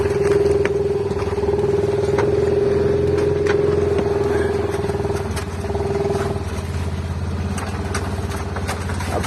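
A Honda Pioneer 700-4 side-by-side idles and chugs at low throttle while crawling over fallen trees in snow, a steady engine hum with intermittent clanks and knocks of the chassis over the obstacles.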